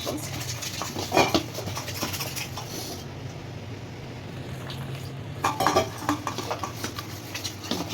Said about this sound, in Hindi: बेसन को बहुत अच्छी तरीके से घोलना है, इसमें जो इसके बबल्स रह जाते हैं बेसन के वो ना रहें।